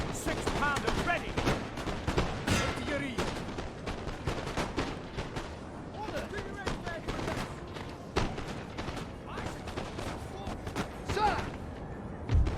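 Cannon fire from 6-pounder artillery in Napoleon: Total War, a loud dense battle mix of repeated booming shots and crackling volleys that runs continuously, with voices speaking throughout.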